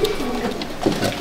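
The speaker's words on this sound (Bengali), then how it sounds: "আর এক জোড়া পায়রা দেখাচ্ছি" Several pigeons coo in a loft at Barrackpore, a steady low warbling drone with a few sharper throaty pulses toward the end, close and uninterrupted by voices.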